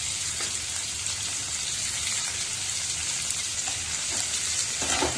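Carrots and mixed vegetables being stirred in a hot pan for pulao give a steady, close sizzle with occasional soft scraping of the spoon, continuous and fairly even throughout, with no talking.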